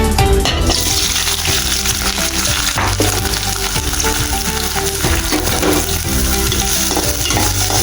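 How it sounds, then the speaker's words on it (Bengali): Homegrown rooftop-garden greens and dried fish fry loudly in hot oil, a dense continuous sizzle with occasional stirring scrapes, close and filling the whole stretch with no talking. "এটা আমি কিছুক্ষণ নাড়াচাড়া দিয়ে একটু ভাজা ভাজা করে নেব।"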